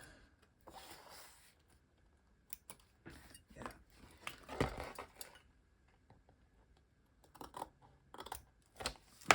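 Scissors snip through material for a mixed media art piece, giving several short, quiet cuts in scattered bursts with soft handling rustles between them, close by in a quiet room.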